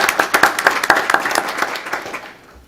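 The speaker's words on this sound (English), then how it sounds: "If we'll give them a round of applause, please." Audience at a school district board meeting gives a round of applause, a burst of sharp individual claps from a modest group that thins out and fades to silence by the end.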